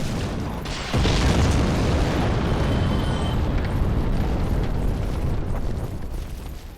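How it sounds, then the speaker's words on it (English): Explosions in the Dark Souls video game boom in a loud sudden burst that gives way to a sustained roaring, rumbling blast with no voices. "I'm getting pelted by arrows and explosions?"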